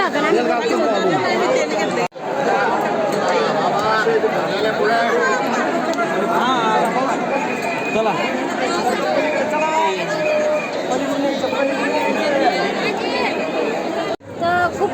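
Dense babble of a large crowd of pilgrims chattering at the Jejuri Khandoba temple during the Champashashti festival, many overlapping voices close by, steady and continuous with two brief dropouts.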